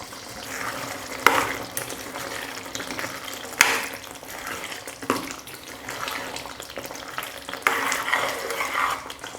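A ladle stirs meal maker gravy in a pan after curry leaves and chopped coriander go in, giving a continuous wet, sloshing stir with occasional sharper scrapes against the pan, close and fairly loud.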